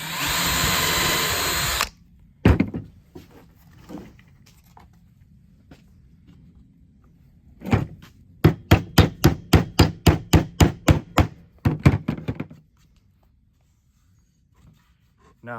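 A small hammer taps small nails into a wooden nesting box with sharp, close taps, including a quick even run of about a dozen strikes, after a short loud machine burst at the start.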